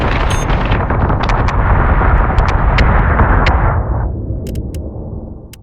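Incoming missile explosions in the Battlestar Galactica Deadlock space combat game: a loud, close, rumbling blast with crackling bursts that roars for about four seconds, then drops away into a thinner tail with a few sharp pops.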